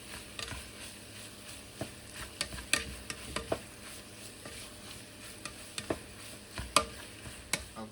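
Spam fried rice cooking in a pan, a low sizzle broken by irregular scraping and clacking strokes of a utensil stirring, close and fairly quiet.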